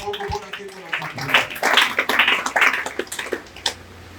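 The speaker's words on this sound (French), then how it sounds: "applaudis pour la voix." A church congregation at a Sunday worship service breaks into a burst of scattered, uneven clapping that swells and then thins out, mixed with voices speaking over it.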